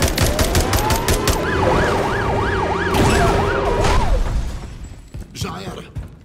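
An ambulance siren wails in a rising and falling pattern during a Call of Duty: Modern Warfare III mission, loud at first and then cutting off, with gunfire, engine rumble and voices heard around it.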